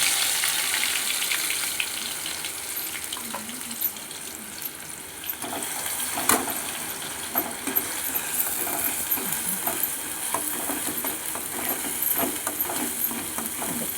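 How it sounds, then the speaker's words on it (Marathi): Spices drop into hot oil for an egg curry and crackle in a steady, dense sizzle with scattered pops and spits throughout, close and continuous with no talking. "पहिलं तेल ओतायचं आणि तेलाला मसाला टाकायचा."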